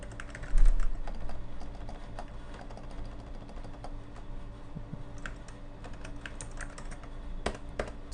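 Rapid typing on a computer keyboard while an email address is entered, a steady run of close, crisp key clicks with a slightly louder burst near the start and no talking.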